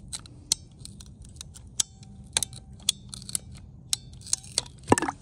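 A plastic pipe tube being cut with clean snips, heard as a run of sharp, close clicks and crisp snaps at an uneven pace over a low steady background hum, with one louder crunch near the end.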